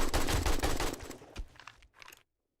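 Rapid automatic AK rifle fire in Resident Evil's Spencer Mansion, a loud dense burst of shots that thins into a few scattered rounds and cuts to silence after about two seconds.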